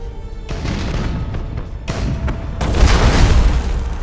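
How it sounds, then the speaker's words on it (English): Broadside macro cannon fire and explosions from warships in the video game Battlefleet Gothic: Armada boom in bursts, with heavy layered blasts growing louder and denser toward the end. "You see a little bit of the gunfire and explosions."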